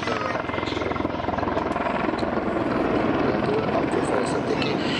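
A Mil Mi-24 attack helicopter flies a display, its loud, steady rotor thump and engine roar filling the air continuously, with a voice talking faintly underneath.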